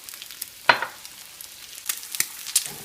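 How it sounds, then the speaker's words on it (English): Eggs frying in oil in a pan, seasoned with salt and pepper for a Czech lentil dish, give a soft crackling sizzle with a sharper burst of spatter early on and a few brief pops later, close and moderately quiet. "I try to get the oil under the eggs"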